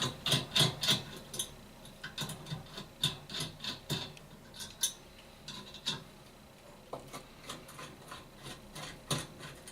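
Phillips number 2 screwdriver backing out the two screws holding a G9 light socket, heard as a run of short, close scraping and rasping ticks in irregular bursts with no talk.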